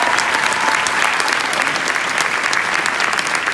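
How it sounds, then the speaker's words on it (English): An audience in a large hall applauding: loud, dense, steady clapping from a big crowd, close and sustained throughout. "give yourselves a big round of applause"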